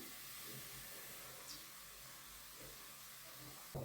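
Spice powders, including fenugreek and asafoetida, sizzle and hiss steadily in hot oil for chicken pickle, a continuous close frying crackle with a brief clatter near the end.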